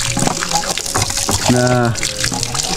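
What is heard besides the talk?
water gushing from a hand pump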